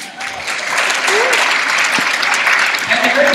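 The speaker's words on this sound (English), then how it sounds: "round of applause for them." An audience gives a round of applause: steady, dense clapping from a crowd that holds at an even level for a few seconds, with no voices standing out.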